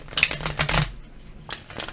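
Tarot cards being shuffled by hand up close, a run of quick papery riffles and flutters in the first second, a pause, then a shorter burst of shuffling near the end.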